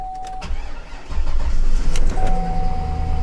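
A Rolls Royce bought at a salvage auction cranks with the key and catches, a brief electric whir giving way to a steady, loud idle that keeps running close by.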